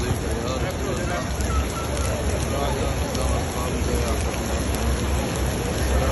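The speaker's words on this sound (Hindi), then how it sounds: "मस्जिद नबी में एंटर होता ही इतनी तेज़ बारिश स्टार्ट हो गई" Heavy rain pours down at Masjid an-Nabawi in Medina, a dense, steady hiss of drops on the ground, loud and continuous, with a murmur of crowd voices mixed underneath.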